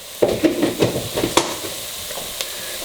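Flour cooking into a roux for cheeseburger soup in a pot, a soft sizzle under rhythmic scraping stirring strokes, several close, fairly quiet swipes in quick succession.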